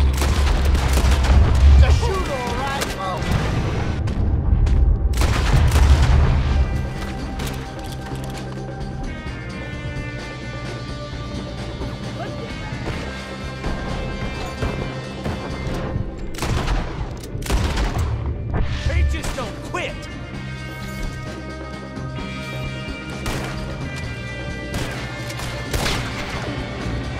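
Gunfire in Red Dead Redemption 2, with loud booming shots and bursts of rapid fire up close over a roaring background, giving way to scattered shots under music and voices.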